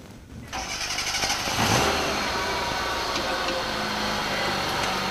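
A car engine running with no oil in it, starting up and settling into a steady, loud mid-pitched drone that holds evenly to the end.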